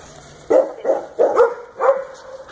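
A dog barks four times close by, loud deep woofs spaced roughly half a second apart after a short quiet start.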